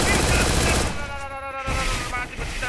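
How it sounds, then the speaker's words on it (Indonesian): Dense gunfire in a battle-royale mobile shooter game rattles in rapid bursts, with a sustained fusillade first, then quieter chattering shots under a steady electronic tone. "Ada tembakan dari Vida Killer"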